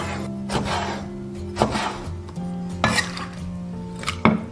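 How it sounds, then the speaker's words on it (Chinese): A kitchen knife chops stingray fins into small pieces on a cutting board, giving four or five sharp, evenly spaced thuds over a steady low background hum, with no talking. "把裙边也给它改成小块"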